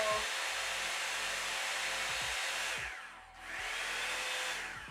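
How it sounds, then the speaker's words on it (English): A Revlon Pro Collection Salon One-Step hair dryer blows with a steady whooshing hum, dipping briefly as it switches settings before roaring back up. "sounds just like any other blow dryer, honestly"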